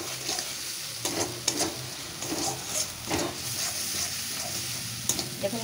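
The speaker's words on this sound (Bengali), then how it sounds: "ভালো করে আমি মশলাটাকে কষে নেব।" Spice masala fries in oil for a chicken gizzard and liver curry, with no added colouring. A constant sizzle runs beneath repeated scraping strokes of a spoon stirring through the pan, near and moderately loud.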